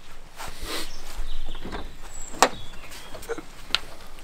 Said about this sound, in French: La porte qui s'ouvre en grand.